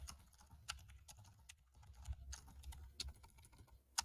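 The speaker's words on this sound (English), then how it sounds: "I'm trying to type it where it'll just give me the answer I want." Someone types on a computer keyboard, with sparse, quiet key clicks in an irregular rhythm over a faint low hum.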